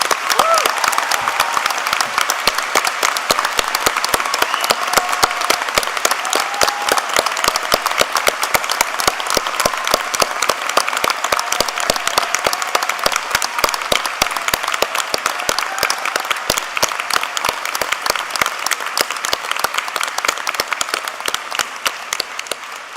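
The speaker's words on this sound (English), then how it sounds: "Please join me in applauding their remarkable achievements." A large audience claps for graduates at a Flinders University graduation ceremony for the College of BGL: a dense, sustained wash of applause that holds steady and loud for over twenty seconds.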